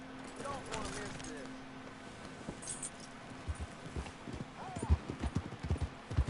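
Horse hooves clip-clop at a walk along a road in Red Dead Redemption, steady hoofbeats growing louder and more distinct, with voices talking over them and a faint jangle of tack.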